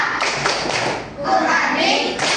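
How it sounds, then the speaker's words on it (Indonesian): A Grade 6A classroom of children chants and claps together in a loud, close, rhythmic burst, their voices mixed with the quick patter of hands. "ayo kita tepuk kelas 6A"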